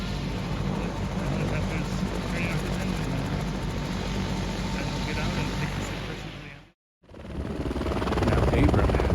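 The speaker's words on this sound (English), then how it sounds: "Yeah, the helicopter is taking off." A medevac helicopter lifting off in Black Rock, New Mexico makes a loud, continuous rotor and engine roar. The sound cuts out briefly near the end, then returns and swells stronger.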